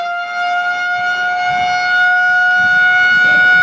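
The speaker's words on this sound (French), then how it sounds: "le retentissement de la sirène pour marquer la fin de la composition du BEPC" A loud civil defense siren at a school marks the end of the BEPC exam session. It is a steady sustained wail with a clear tone that holds level and swells slightly, while faint voices stir in the background.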